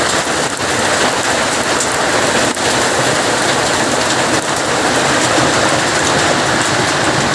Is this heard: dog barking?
no